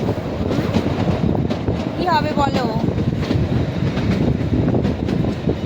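The Kalka–Shimla toy train rumbles steadily along its narrow-gauge rails, a dense, close clatter with wind noise throughout, a brief squeal of wheels midway and a voice speaking briefly over it.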